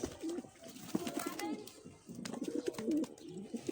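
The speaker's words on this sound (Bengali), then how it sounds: "তো দেখুন কত সুন্দরভাবে কবুতরগুলো গোসল করতেছে।" Pigeons at a loft coo softly in repeated short phrases while bathing, with faint splashing and bird sounds close by at low volume.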